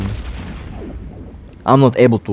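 Main caliber turrets fire in the space game EVE Echoes with deep, booming artillery-like blasts that fade out, followed by someone talking over the quieter tail.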